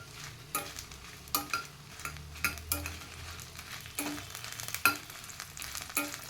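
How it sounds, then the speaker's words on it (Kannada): Peppers roast in a pan with a faint sizzle, broken by repeated sharp scraping and stirring clicks from a utensil against the pan at an uneven rhythm. "ಮೆಣಸನ್ನು ಹುರ್ಕೊಳ್ತೀನಿ"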